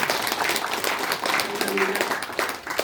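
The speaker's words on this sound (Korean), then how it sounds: "큰 박수로 환영해 주십시오." Audience at a regional forum gathering clapping in welcome for a newly introduced chairman, dense continuous applause close by, with a voice faintly heard underneath.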